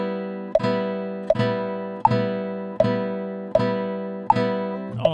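Classroom guitar picks a steady arpeggio exercise, six evenly spaced plucked chords ringing and decaying one after another, clear and close with no talking.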